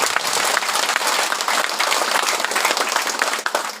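An audience at a political rally in Medan applauds steadily and densely, a continuous wash of many hands clapping at close range with no talk over it.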